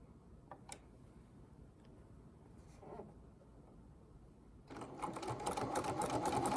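A sewing machine stitches a buttonhole, starting after faint scattered ticks with a steady, fast mechanical whirring hum that builds and stays close.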